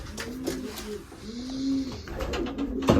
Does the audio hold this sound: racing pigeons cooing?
yes